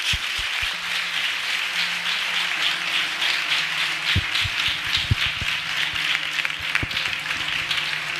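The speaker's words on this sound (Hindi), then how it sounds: "आइए हम अपने प्रभु के लिए एक अच्छी ताली बजाएंगे।" Church congregation clapping together during a worship service, a steady, dense wash of hands sustained throughout with a few louder low thumps scattered in, fairly close and loud.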